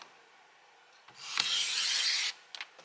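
Card stock being trimmed to width for a handmade fence card, a steady scraping slide of a paper trimmer blade lasting about a second, followed by a couple of small clicks, close and fairly quiet with no talk.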